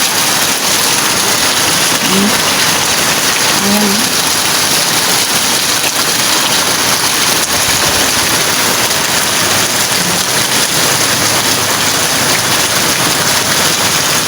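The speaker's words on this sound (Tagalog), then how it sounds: "Walang gaanong ulan. Yung ganun lang ang ulan niya eh." Light rain falls steadily as a dense, even hiss that never lets up, with a few faint voices and noises far in the background.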